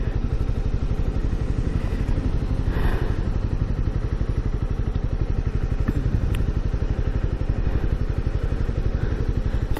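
A CB300R motorcycle engine runs while being ridden, giving a steady, fast, rhythmic low thrum with faint rattling, close and constant for about ten seconds with no talking over it.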